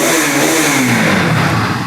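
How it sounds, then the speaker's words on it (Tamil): A 2023 Bajaj Pulsar NS200 ABS motorcycle engine revving close by, a loud continuous mechanical roar whose pitch sweeps slowly downward as the revs fall. "ஸ்டார்ட் பண்ணுற பாருங்க, ரொம்ப சின்ன செல்ஃபு தான். வண்டியோட சவுண்டு பாருங்கள்"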